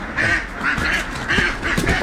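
Ducks on a poultry farm give several nasal quacks in quick succession, close and fairly loud, in irregular bursts against a low background murmur.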